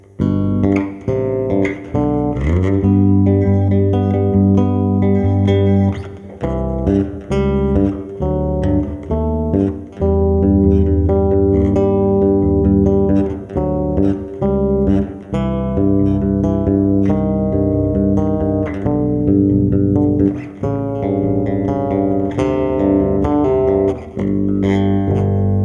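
A bass guitar plays the chords of a song through a whole verse, a steady run of ringing, overlapping notes, close and clear with no voices.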